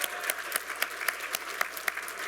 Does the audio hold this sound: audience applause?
yes